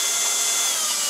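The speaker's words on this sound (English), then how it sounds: "Nice, sharp metal drill bit. Somewhat low RPM." A sharp metal drill bit at somewhat low speed drills out a rivet on an old black-and-white tube TV, giving a brief, steady grinding whine of bit cutting into metal, loud and close with no talk.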